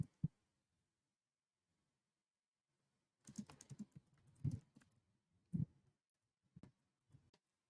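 Keys clatter on a computer keyboard as a chart title is typed, a single tap first, then after a silent pause a quiet, close run of irregular keystrokes in short bursts.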